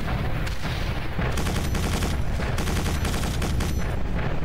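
Loud, relentless gunfire and rocket blasts from the first-person shooter Quake 4 hammer away in rapid, overlapping bursts, with heavy booms layered over continuous automatic fire throughout.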